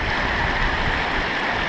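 Stream at The Subway in Zion flowing down into small pools, a steady loud rushing wash of water with no breaks and no voices.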